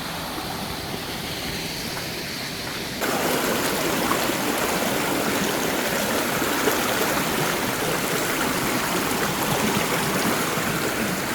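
A river flowing at a stream crossing on an expedition to Gunung Besar Hantu, a steady, full rush of water close by that grows louder partway through and then holds constant, with no talking.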